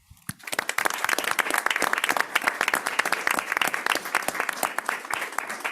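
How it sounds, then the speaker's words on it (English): Steady applause from attendees at a school board of education meeting begins after a brief quiet moment, many hands clapping at close to moderate distance in an even, sustained patter. "if we could give them a round of applause"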